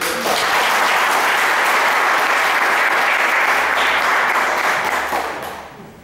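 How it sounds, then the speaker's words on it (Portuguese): A prayer group congregation applauds at a Catholic gathering, dense steady clapping filling the room loudly for about five seconds before tapering off at the end, with no talking over it. "Vamos aplaudir a palavra do Senhor."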